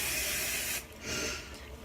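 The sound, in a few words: Sebastian Shaper Plus hairspray being sprayed on hair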